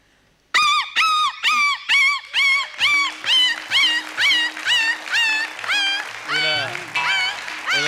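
A performer's voice imitates an injured dog's cry on a stage comedy show, a rapid series of loud, high yelping whimpers and whines that repeat steadily and stretch into longer wavering howls, with low pulsing accompaniment underneath.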